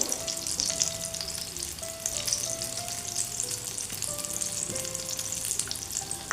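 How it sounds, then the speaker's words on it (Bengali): Besan-battered stuffed capsicum deep fries in a pan of oil at home, a steady close crackling sizzle that continues without a break. "বেসনের ব্যাটারে ডুবিয়ে তেলে ছাড়ার পরে সাথে সাথেই না কিছুক্ষণ বাদে একটু এরকমভাবে তেলটা দিয়ে দিতে হয়"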